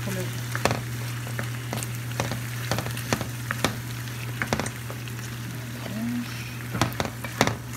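Chicken pieces with tomatoes simmer in a pan, giving a soft, continuous sizzle and bubbling broken by occasional sharper pops and stirring clicks over a low steady hum.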